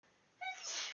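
A single sneeze comes from a player at a Pathfinder tabletop game session: a quiet intake of breath and then a sharp, close, airy burst.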